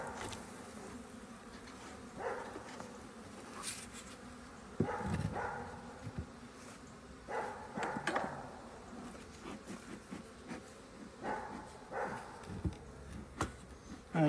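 Agitated honeybees buzz steadily inside a shaken hive, a dense low insect hum close to the microphone with scattered sharper bursts and clunks of handling throughout.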